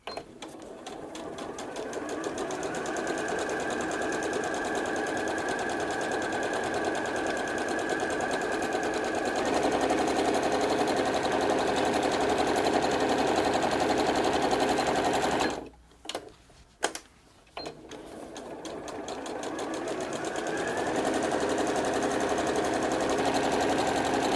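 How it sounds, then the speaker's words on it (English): A sewing machine runs in a fast, steady whir of stitching, pauses briefly with a few clicks, then starts up again and keeps going. "we're going to sew to the end, do a little back stitch"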